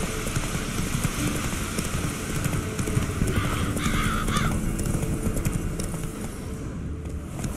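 Roach, a horse in the video game The Witcher 3, gallops along in quick, steady hoofbeats that carry over a constant wash of ambient noise, with birds cawing faintly and a brief rise in clatter partway through.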